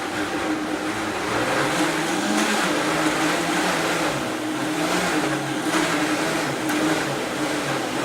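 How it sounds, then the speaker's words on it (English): A Vitamix blender purees soft cooked pears for homemade baby food, giving a loud, steady whirring roar that holds evenly for the whole stretch with no talking. "I have my Vitamix blender, and I'm going to start with blending the pears"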